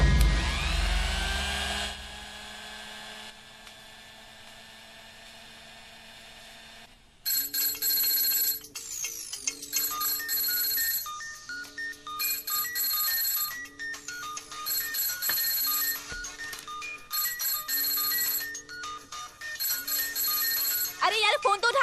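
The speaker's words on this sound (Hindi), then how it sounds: "अरे यार फोन तो उठा।" A telephone rings in repeated electronic bursts, loud and close, following a stretch of voices and quieter sound.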